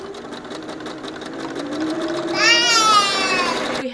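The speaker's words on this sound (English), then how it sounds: "I'm just gonna do a zigzag stitch back and forth" A sewing machine runs a zigzag stitch back and forth across a small square of fabric for a puletasi skirt. It gives a steady, close mechanical whir with a rhythmic needle beat that speeds up and rises in pitch partway through, then stops abruptly.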